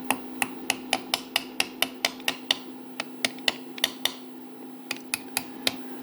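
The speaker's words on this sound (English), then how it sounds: "Let me grab the hammer here and tap it in." A hammer taps pins into drilled holes in a metal part, giving a steady series of sharp, evenly spaced strikes close up, with a faint hum underneath.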